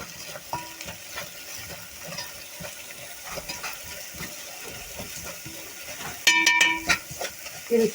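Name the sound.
stirring onions frying with black pepper, salt and cumin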